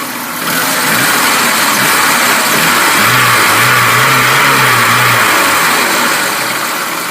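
A Lada Niva with a manual gearbox revs its engine while the radiator cooling fan runs: a loud, close engine note swells and holds for several seconds over a steady whoosh of rushing air, then eases back.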